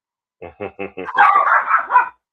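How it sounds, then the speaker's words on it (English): Several quick dog barks in a row, followed by a burst of higher, overlapping yips and barks, close and fairly loud. "Y'all hear them barking in the background."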